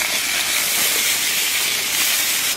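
Duck pieces hitting hot oil with browned ginger in a wok give a loud, steady sizzling hiss that runs unbroken throughout, with no talk over it.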